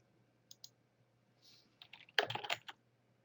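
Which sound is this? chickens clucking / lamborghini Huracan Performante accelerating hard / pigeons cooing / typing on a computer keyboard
typing on a computer keyboard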